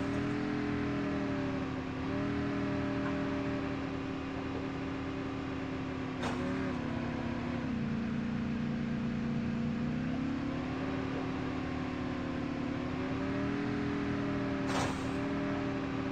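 A video game car engine hums steadily at close range, its pitch rising and dipping as it drives and accelerates, with a couple of brief clicks and no talk.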